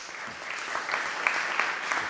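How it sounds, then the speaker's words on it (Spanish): Applause from the audience at a lecture on world order, a fairly soft, even patter of many hands clapping throughout. "Un aplauso para todos."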